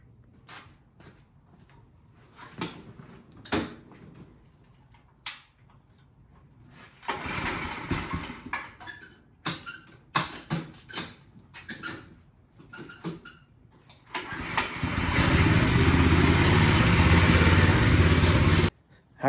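A Tote Gote mini bike's small engine sputters in short bursts, then starts and settles into a steady, loud idle near the end.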